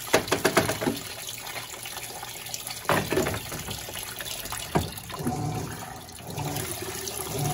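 An Electrolux Blue Touch 12 kg LB12Q washing machine fills with hot water for a load of bath towels, a close, continuous rush of flowing water with a few gurgling surges.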